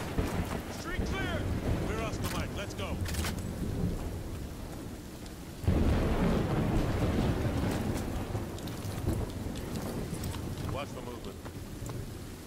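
Heavy rain pours steadily in a Modern Warfare 2 Remastered mission, with rolling thunder rumbling underneath and a louder surge of downpour partway through, while wind buffets the scene.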